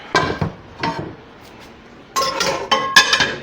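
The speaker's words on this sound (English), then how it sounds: "Let me grab my skillet out of here." A cast iron skillet taken out of a kitchen cupboard, with a few clattering knocks and clinks of metal cookware, then a louder run of rattling and clanking near the end.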